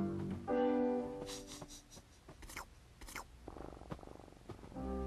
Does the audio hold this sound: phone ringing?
no